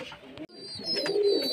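Pigeons coo softly and steadily in a loft as they feed, a low continuous murmur with faint higher chirps and no talking.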